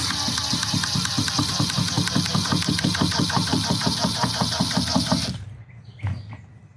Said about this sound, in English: now we've driven our screw all the way through our 1x6 and through our 2x4 and into my table here